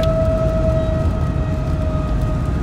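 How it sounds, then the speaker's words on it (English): Tornado warning sirens wail in steady tones during a severe storm, loud and sustained over a dense rumble of wind and rain. "Ah, you hear the sirens."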